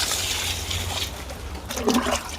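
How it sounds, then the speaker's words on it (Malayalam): Water poured steadily onto a heap of dry leaf compost gives a close, continuous splashing and trickling wash that swells near the end. "നമ്മൾ വീണ്ടും ഇതേപോലെ വെള്ളം ഒഴിച്ചു കൊടുക്കുക"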